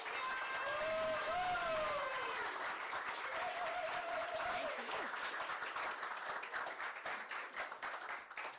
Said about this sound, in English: Please give a round of applause for Marlia as she accepts this award.